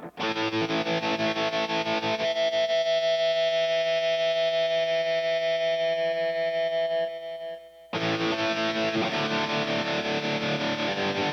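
An electric guitar chord rings through an amp with a pulsing wobble, fading briefly before a second strummed chord bursts back in loud and sustained.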